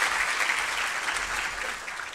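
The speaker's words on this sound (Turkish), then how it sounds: "Alkışlarla sizi yerinize alıyorum." Steady applause from an award ceremony audience, dense and continuous throughout, with no voices rising above it.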